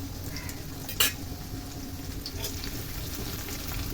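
Black cumin (nigella seeds) tempering in hot oil in a pan for latka khichuri, a steady close sizzle with one sharp clink of utensil on pan early on.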